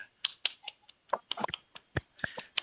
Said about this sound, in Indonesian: Kita berikan tepuk tangan untuk apresiasi mereka berdua.